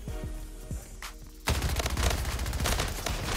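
Rapid gunfire in the video game Splitgate, a few sharp shots at first, then a loud dense burst of automatic fire and booms that carries on steadily to the end.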